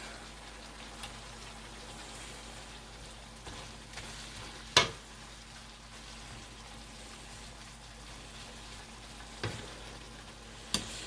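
Chopped onion frying in a pan for a cheesesteak dinner, giving a steady, even sizzle like light rain. A few soft clacks of the stirring utensil break in now and then, close and moderately quiet, with no talking.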